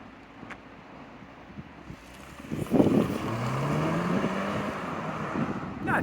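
A 2025 BMW 430i coupe's turbo four-cylinder starts up quietly, then swells into a loud, sustained engine and exhaust drone with a rising pitch, heard up close outdoors with some wind buffeting.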